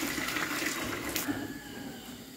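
Plain water pours into a pot of spicy pepper rasam, a soft splashing trickle that runs for a couple of seconds, fairly close and quiet, and then tails off.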